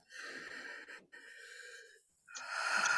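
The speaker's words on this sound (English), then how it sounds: "Can you just take a nice deep breath?" A person draws one slow, deep breath, an airy, close inhale that pauses briefly midway and ends with a fuller rush of air.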